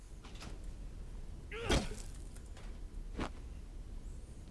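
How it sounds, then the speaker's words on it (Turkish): Door closing in the horror game Condemned: Criminal Origins, a single short thunk heard faintly against a quiet, hissy ambient background, followed a moment later by a softer knock. "Ha kapıyı kapat diyor. Tamam kapat."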